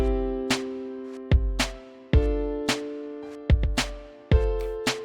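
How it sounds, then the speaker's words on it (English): A chord on the FL Keys piano plugin, struck repeatedly in a rhythmic pattern with a deep low note on some hits, each sustained then cut, clear and alone. "Now I made a chord in FL keys, and the first chord sounds with it like this."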